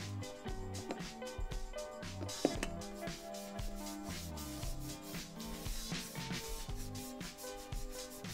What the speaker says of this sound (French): Je frotte pas trop parce que je ne veux pas enlever la cire que je viens d'appliquer.